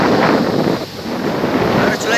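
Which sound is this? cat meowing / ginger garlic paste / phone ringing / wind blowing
wind blowing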